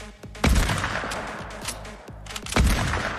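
Gunfire in the Fortnite video game: sharp, loud shots at the start and end of the clip with scattered smaller cracks between, dense and close.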